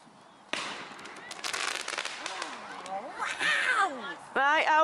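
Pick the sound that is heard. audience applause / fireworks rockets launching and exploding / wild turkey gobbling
fireworks rockets launching and exploding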